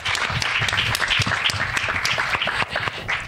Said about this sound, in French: Un petit applaudissement pour Jonas quand même.